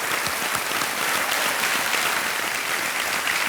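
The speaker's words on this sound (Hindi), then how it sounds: "खूब जोरदार तालियां बजाएं इनके लिए।" Loud, steady applause from a studio audience for a contestant on the KBC quiz show, a dense wash of clapping that carries on without a break.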